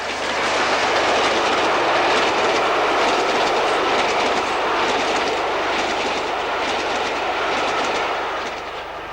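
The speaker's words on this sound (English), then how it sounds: "a rather grimy A4 speeds south with an 11-coach express" A grimy A4 steam locomotive speeds south past Abbots Ripton with an 11-coach express, a loud sustained roar and rushing clatter of wheels and coaches, steady throughout and easing only slightly at the end.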